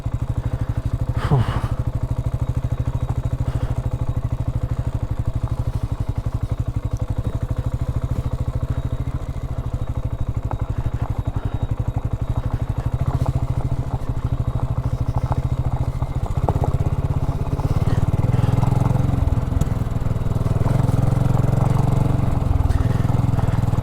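A BSA Goldstar 650 motorcycle rides slowly along a rutted countryside track, its engine putting out a steady low, lumpy drone with some clatter, swelling a little louder toward the end.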